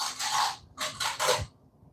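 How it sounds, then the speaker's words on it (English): Squeaky rubbery rubbing and twisting of balloons being made into balloon animals in short bursts, close up, with brief pauses between. "that is the sound of my son making balloon animals."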